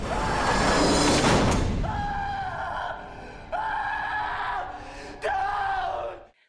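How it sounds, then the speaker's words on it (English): Adam screams in the dark at the grim ending of the horror film Saw: a loud, sustained burst of shrieking and noise, then three long, wavering yells, each separated by a short pause. "Adam's screams fill the darkness"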